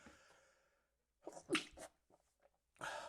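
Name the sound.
sneeze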